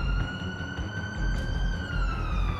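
An ambulance siren wails steadily in a continuous rising-and-falling tone over low traffic rumble, sounding fairly close and prominent throughout, with no voices.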